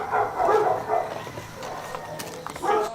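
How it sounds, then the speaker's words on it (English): A dog howls and yips at night in a few wavering, moderately distant cries, with a whimpering quality between them and quieter gaps. "Dog howls can be heard resembling the crying"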